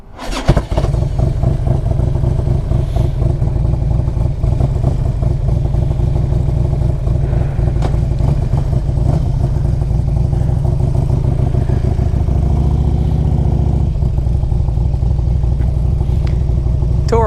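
A 2004 Harley Davidson Electra Glide Ultra Classic touring motorcycle starts up and runs close by, its big V-twin engine loping in a loud, even rhythm, with throttle blips and a slight rise in revs.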